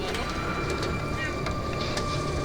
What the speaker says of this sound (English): The frightening force of a hailstorm is captured on amateur video.